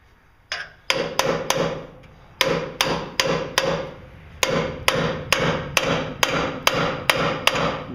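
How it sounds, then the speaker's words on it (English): A hammer drives a wedge into an opening to spread mechanical parts apart, giving about fourteen sharp, close metallic blows in quick bursts with short pauses and no talk. "It helps at this point to drive a wedge in that opening to help spread those out."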